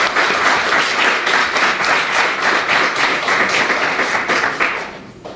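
Audience applause at a French-language church gathering, a dense steady wash of many hands clapping for about five seconds, loud and sustained before tapering slightly at the end.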